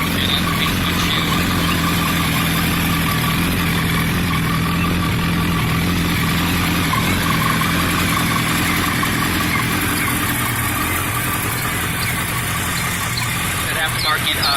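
A 2007 Yamaha R1 sport motorcycle with low mileage idling after starting, a loud, steady, close engine hum throughout with a continuous droning rumble and no pauses.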